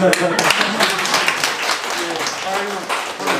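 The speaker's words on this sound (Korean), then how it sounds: "우리 목사님 박수 한번 주세요" A church congregation claps for the pastor at a sixth-anniversary worship service and concert in Busan, sustained applause with a voice speaking over it near the start and end.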